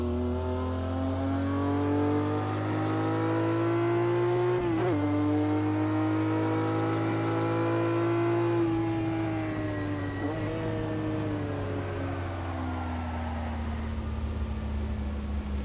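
A Ferrari Dino 206S Berlinetta engine revs hard on a fictional racing circuit in a driving game, a loud steady harmonic drone that dips briefly at two gear shifts, with no talk over it.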